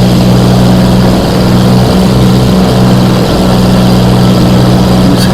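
Hawker Hurricane engine and propeller in flight under a low cloudbase, a loud, steady droning roar with a deep harmonic hum that wavers slightly, heard from inside the cockpit.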